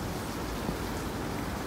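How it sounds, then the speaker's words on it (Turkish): Steady rain falling in Tokyo during the rainy season, a dense, even hiss with no distinct drops or other sounds standing out across the short stretch. "Bazen güneşli oluyor ama yağmur başladı, bu da durmuyor."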